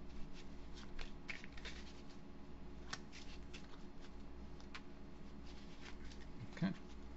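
Overhand shuffling of a deck of playing cards, a soft continuous riffle of card slaps and rustles running steadily throughout at close range, with a louder flick near the end.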